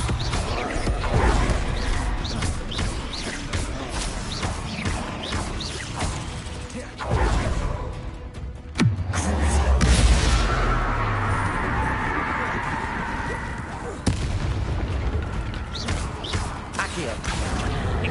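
Spell blasts in the video game Hogwarts Legacy: repeated whooshes, a falling swoosh and crashing impacts from game combat, running continuously under a voice that calls out spell names.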